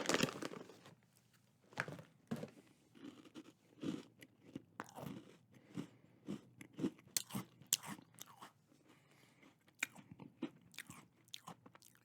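Crunchy Dunkin pumpkin spice Goldfish Grahams chewed close to the mic, with sharp crisp bites and repeated crunching chews in an irregular rhythm against a quiet background.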